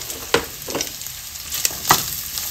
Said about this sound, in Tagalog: Lagay ko na po itong bawang at sibuyas.